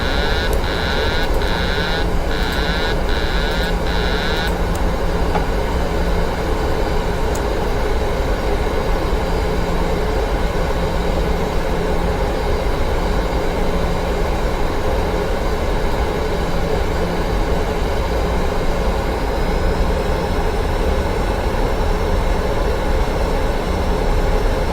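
Airliner engines drone steadily on final approach in the Prepar3D flight simulator, a continuous loud broadband roar with a few brief beeping tones at the start and no talk.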